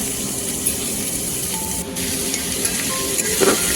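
Three large onions frying in a cooking pot before mutton goes in, giving a dense, steady sizzle up close with occasional soft stirring scrapes.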